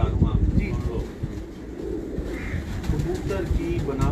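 Meerut Gola pigeons coo in low, rolling bursts close by, with someone talking over them.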